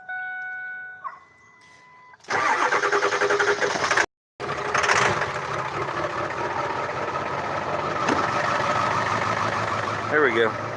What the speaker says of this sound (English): Old diesel truck. Bunch of miles on this thing.